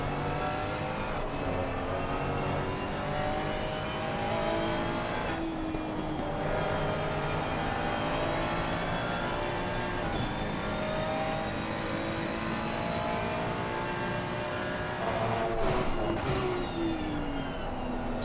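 Ferrari and Bentley race cars at Barcelona accelerating hard and braking into the Repsol corner: loud engine notes climb and drop through gear changes as several cars roar past, with no talking.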